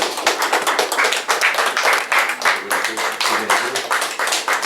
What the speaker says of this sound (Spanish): con un sonoro aplauso